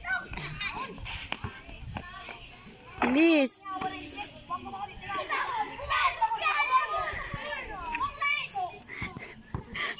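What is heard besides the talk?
noisy children playing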